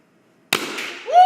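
A CO2-powered gun fired once, a sharp sudden crack after a near-silent pause, followed by a short hissing decay, with a voice starting to exclaim at the very end.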